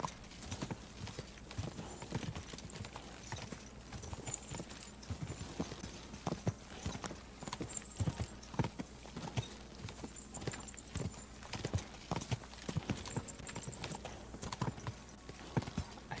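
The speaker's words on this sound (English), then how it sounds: "Your horse is still very loud, Hans." Horse hooves clip-clop at a steady walking rhythm in the Kingdom Come Deliverance video game, producing dense, continuous thuds that are fairly faint and close. They keep going for the full sixteen seconds.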